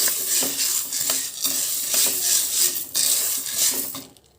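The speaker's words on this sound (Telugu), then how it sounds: "మాడకుండా వేయించుకోవాలి వేగిపోతున్నాయి" Ingredients fry on a low flame in a pan while a utensil stirs and scrapes in repeated strokes, the close sizzle rising and falling with each pass before cutting off at the end; no one speaks.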